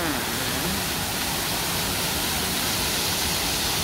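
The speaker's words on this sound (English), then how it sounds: "Amazing waterfall." Waterfall at Jurong Bird Park in Singapore, a steady broadband rush of falling water that fills the scene evenly and loudly from start to finish, with no voices over it.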